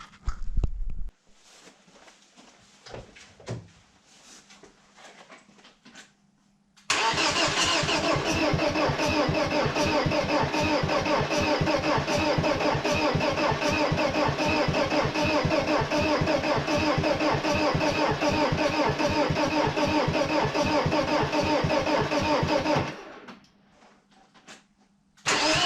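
A BMW E36 engine is cranked by its starter in a long, steady, loud churning run of about sixteen seconds with a fast rhythmic pulse, preceded and followed by quieter background noise, without catching into a clear idle.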